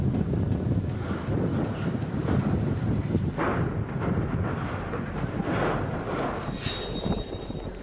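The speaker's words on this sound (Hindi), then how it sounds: "तूफानी हवाएं चल रही हैं।" Stormy wind roaring during a Rajasthan dust storm, a loud continuous rumbling gust that buffets the microphone throughout.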